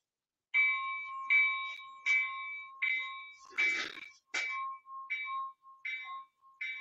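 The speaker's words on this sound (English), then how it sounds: "There's the bell again." A model railroad grade crossing bell rings in steady, evenly spaced metallic dings, loud and close, with a brief rustling clatter partway through.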